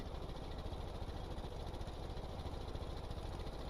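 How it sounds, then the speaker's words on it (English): A low two-cylinder engine in the Stormworks game drones steadily and loudly at a constant pitch in sixth gear, with no talking over it. "But you can hear how low the engine's."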